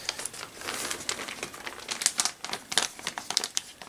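Cardboard box with stickers being opened up close, a run of crinkling, rustling and light tearing sounds with several sharp crisp peaks, fairly quiet and with no talking.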